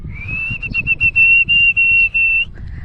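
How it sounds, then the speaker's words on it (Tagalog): A person whistles outdoors under a tree to call the wind, holding one long steady high note with slight breaks, close and loud, over a low rumbling background. "Ayan nga't panay ang aking sipol mga ka-beautiful ginang."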